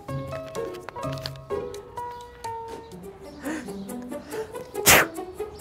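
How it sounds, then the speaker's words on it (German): A single sharp sneeze bursts out near the end, loud and close, after a stretch of quieter talk and soft voiced sounds. "wenn ihr in Deutschland seid und hört, dass jemand niest"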